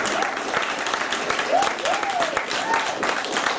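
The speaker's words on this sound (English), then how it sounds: "Can I have a quick round of applause for the bridesmaids," Wedding guests clap for the bridesmaids during the reception speeches, a steady round of applause with chatter and voices mixed through it.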